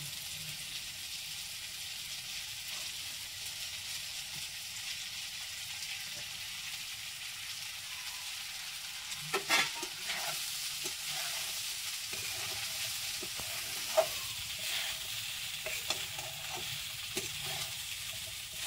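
Cumin stirred into boiled potatoes in a frying pan for chira upma, a steady soft sizzle with scraping spoon strokes and a few sharper clinks partway through, no voices.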